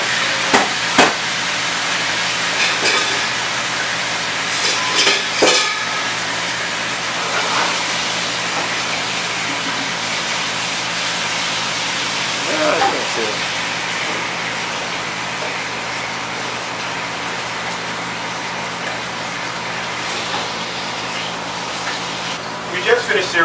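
Salmon fillet sears face down in hot oil in a pan, a steady sizzling hiss under a voice talking, with occasional clatter and utensil knocks.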